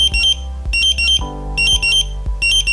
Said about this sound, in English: Of course, the sensors are still reacting to gas, so press the OK button to silence those alarms